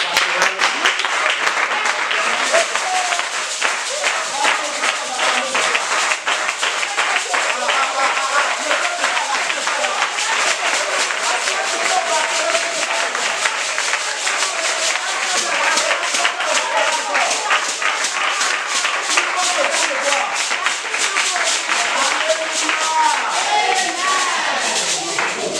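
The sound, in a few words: audience applauding to welcome special guest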